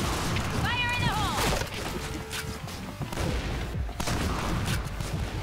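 Gunfire in a shooter video game: bursts of sharp shots and explosive cracks over game music and effects, with a player's voice talking across much of it.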